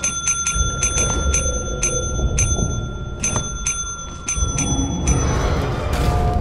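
A bell rings repeatedly in the co-op horror game Lethal Company, a series of sharp, bright dings struck in quick irregular bursts over a low background hum, closer and busier toward the end.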